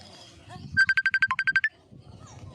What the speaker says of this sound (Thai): แป๊บนึงนะฮะเดี๋ยว รับโทรศัพท์